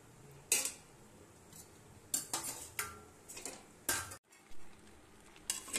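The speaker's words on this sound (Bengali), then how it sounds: "আদা দিয়ে আরেকটু মিশিয়ে নিচ্ছি তরকারিটা" A metal spoon clinks and scrapes against a pan while curry with ginger is stirred, giving sharp, irregular knocks spaced about a second apart, close and alone with no talk.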